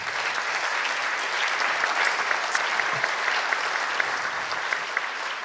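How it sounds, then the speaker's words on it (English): A conference audience at the PODIM 2014 startup pitching event breaks into sustained, dense applause, many hands clapping evenly throughout without pause. "One big applause, please"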